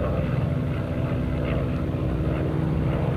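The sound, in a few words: Grumman Hellcat fighter plane flying past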